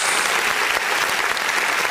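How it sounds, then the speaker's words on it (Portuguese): A church congregation applauds during an online worship service, dense steady clapping filling the space at even loudness throughout, with no voices rising above it. "Vamos aplaudir o nome de Jesus"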